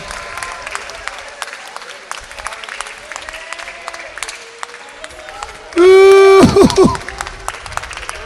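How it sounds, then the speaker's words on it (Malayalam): A church congregation bursts into a short round of hand clapping, loud and dense for about a second, while a preacher's voice rings out over it. Speech continues before and after the burst. "ഒന്ന് കൈയടിച്ചൊരു ആമേൻ പറഞ്ഞേ"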